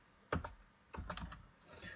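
Computer keyboard keys clatter in short bursts as code is typed: a few quick clicks, a pause, then a longer run of keystrokes, close and moderately quiet, with no speech.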